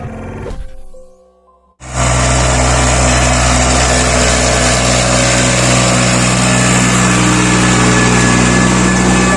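A tractor engine roars steadily as it is driven through a standing crop in a farm field in Fazilka, loud and close, a continuous droning rumble that starts abruptly after a brief quiet.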